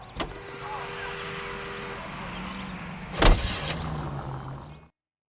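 Period car driven in L.A. Noire, a steady low engine hum running under the scene with two sharp clunks like a door or shifting, before cutting to silence; brief voices may be present.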